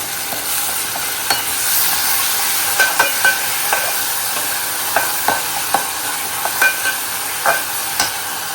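Chopped onions sizzle in a pan with a little salt, a constant close frying hiss broken by frequent sharp scrapes and clicks as a spoon stirs them, with no talking.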